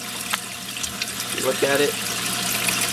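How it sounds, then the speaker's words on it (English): A Reef Octopus protein skimmer on a 46-gallon reef tank splashes water continuously, a constant wash of fizzing and trickling close by, with someone briefly speaking over it. "The only sound this Reef Octopus makes is the splashing from the water."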